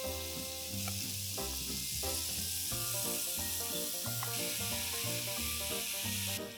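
Mushrooms sizzle steadily in a hot pan, a loud continuous frying hiss heard close up beneath soft background music.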